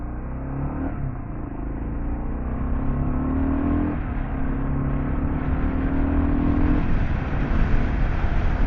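A KLR650 dual sport motorcycle pulls away and accelerates through the gears, its single-cylinder engine droning steadily and rising in pitch with a shift, heard from the rider's seat with steady wind noise.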